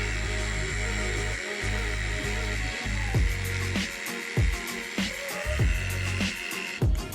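Hair clippers fitted with a guard cutting hair, a steady close motor buzz broken by short strokes and bumps as the clippers move.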